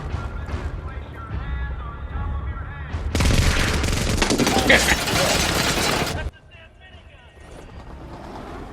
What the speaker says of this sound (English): He's got a damn minigun.